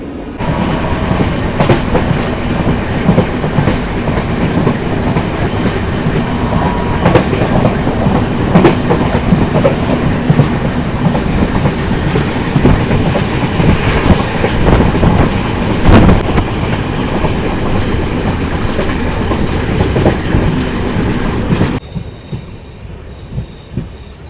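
The 13149 Kanchankanya Express from Sealdah runs loudly on the rails with steady clickety-clack, rumbling wagons and intermittent wheel squeal, the noise dropping abruptly near the end.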